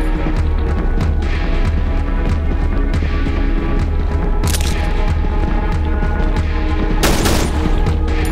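Gunfire in the Cry of Fear horror game, a dense continuous fusillade of rapid shots and booms with sharper cracks standing out near the middle and end, loud and close with no talk.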